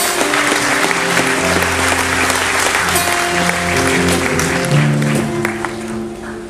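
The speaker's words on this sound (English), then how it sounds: "So give yourselves a round of applause" Audience applause at a cruise ship concert on the JoCo Cruise, with steady clapping throughout and sustained musical tones from instruments playing under it, tapering slightly at the end.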